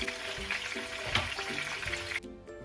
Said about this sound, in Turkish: Hepsini az kızartıyorum.